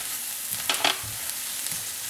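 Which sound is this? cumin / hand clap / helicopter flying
cumin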